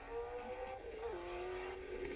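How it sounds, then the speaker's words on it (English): A Ford GT40 race car runs at a steady pitch with one quick downward shift, heard from a moderate distance at the Goodwood festival, with no one speaking. "Oh, what a beautiful sounding motor vehicle."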